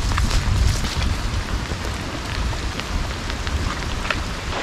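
Heavy rain pours steadily on a flooded homestead, a dense, continuous hiss with low rumbling wash, loud and close throughout with no talk.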